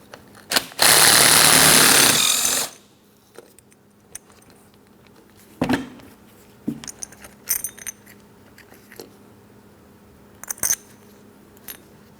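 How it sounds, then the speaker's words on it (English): Power tool whirring in a burst to remove the 13mm mounting bolt from the belt tensioner of a 2003-2007 Cadillac CTS 3.6L V6, followed by scattered metallic clicks and clinks of tools. "This is where you can see a 13mm headed mounting bolt. Let's remove that bolt."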